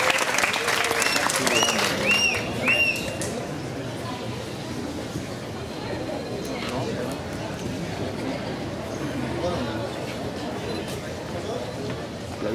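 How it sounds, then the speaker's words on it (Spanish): Loud applause from a crowd at a school award ceremony where a mayor hands out student support, sustained clapping with chatter and voices mixed in, a brief whistle-like cheer early, then steady clapping continuing under murmuring. "Fuertes aplausos, por favor."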